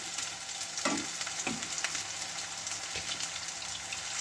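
Chunky kebabs frying in hot oil, a dense continuous sizzle close up with a few soft bumps as pieces settle in the pan.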